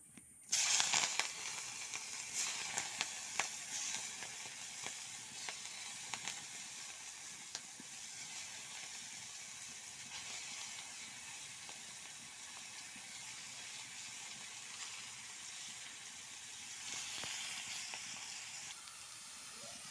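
Large prawns fry in hot oil in a wok, giving a loud, steady hissing sizzle that runs unbroken from start to finish with no voices.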